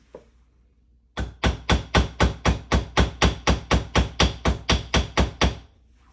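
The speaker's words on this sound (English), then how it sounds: "Then all you have to do is hammer." Steady hammer blows on metal while forming chain links, about seventeen sharp, evenly spaced strikes after a quiet start, loud and close, each with a bright ringing decay.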